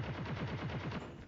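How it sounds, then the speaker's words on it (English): AK rifle fire in a video game: a rapid burst of about ten evenly spaced automatic shots, fairly loud and clipped, with no voices. "Oh, that's an AK."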